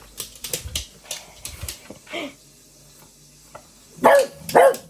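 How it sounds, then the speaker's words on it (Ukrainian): A dog barks indoors in short bursts, a quick run of sharp barks first, then a softer yelp, and two loud close barks at the end, with quiet gaps between. "Начав гавкати."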